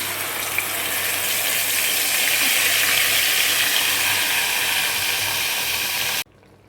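A pot of curry leaf rice mixture boils steadily, a loud continuous bubbling hiss close by that cuts off abruptly near the end.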